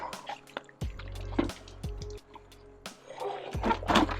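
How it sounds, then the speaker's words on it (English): Water splashes and gurgles as it pours into a camper van's water tank, with irregular drips, sloshes and hollow knocks, fairly close. "first time me loading water."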